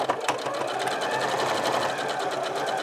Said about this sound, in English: I'm lowering the needle in and I'm just gonna top stitch right to the end